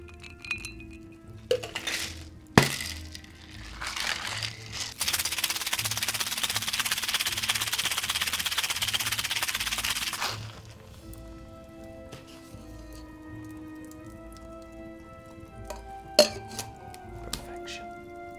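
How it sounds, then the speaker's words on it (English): A cocktail shaker packed with ice is shaken hard for about five seconds, a dense steady rattle of ice against metal, with scattered clinks of glassware before and after. "let's add copious ice to our shaker and shake for 5 to 10 seconds"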